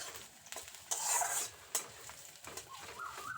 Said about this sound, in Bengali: পেঁয়াজটা হালকা লাল করে ভেজে নেব